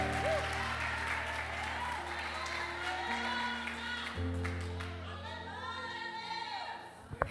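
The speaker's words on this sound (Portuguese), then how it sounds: "Se você crê nessa palavra, aplaude ao Senhor com todo o teu entendimento" A church congregation at a Wednesday miracle service claps steadily together, the applause filling the room beneath sustained organ or keyboard chords, with a voice speaking faintly through it near the end.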